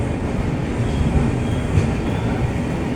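A train runs steadily on the Lucknow to Gaya route, a continuous low rumble of wheels and carriage noise, loud and close, with no talk.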